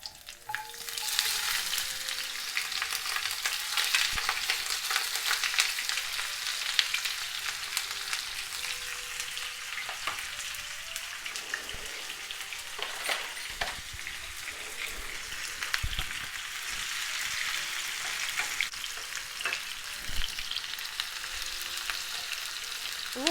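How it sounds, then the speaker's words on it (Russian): Chopped onion sizzling in hot oil in a frying pan, a dense continuous crackle with occasional stirring scrapes, close and steady throughout with no speech. "Лук немножко обжарим без моркови, чтобы он отдал маслу свой замечательный аромат."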